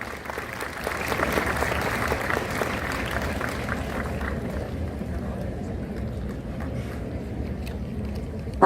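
Delegates at a national homoeopathic summit in Vadodara applaud as a doctor is welcomed on stage, sustained, fairly even clapping from a large hall that gradually softens, with a faint murmur underneath.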